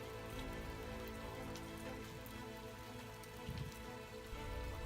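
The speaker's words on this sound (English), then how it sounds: "Only the rain outside." Rain falls outside in a steady, continuous patter on surfaces, even and unbroken, with no one speaking.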